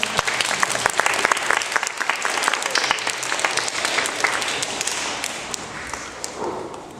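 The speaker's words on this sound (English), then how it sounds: "Here we give her a big round of applause." A school assembly audience claps together in a sustained, fairly loud round of applause, dense and steady with sharp individual claps on top, easing off slightly toward the end.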